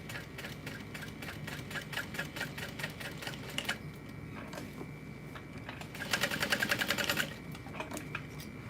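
Sewing machine stitching leather binding, quiet rapid rhythmic clatter in bursts, pausing briefly, then a faster louder run of stitches before slowing again.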